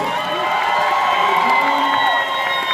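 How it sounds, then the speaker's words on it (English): Audience at a Rocky Horror 50th anniversary screening event in Detroit cheering, whooping and applauding for the costume contest winners: a dense, steady crowd roar with shouts rising over it throughout. "round of applause for our costume contest winners"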